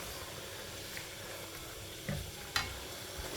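Pork and vegetables stir-fried in a pan for Thai nam tok moo, a steady low sizzle with a couple of brief utensil scrapes, near and unaccompanied by speech.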